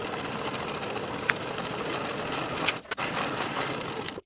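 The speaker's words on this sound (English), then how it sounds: "Sew this seam with a 5/8 inch seam allowance" A sewing machine hums steadily along a pant seam, a continuous close mechanical whir with a brief hitch near the end before it stops.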